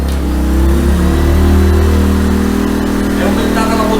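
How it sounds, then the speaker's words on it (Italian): A Maxpeedingrods MXR3500 inverter generator engine revs up as the load climbs to 3 kW, a loud close drone that rises in pitch and holds steady, with faint talk mixed in near the end. "È aumentata la potenza del motore."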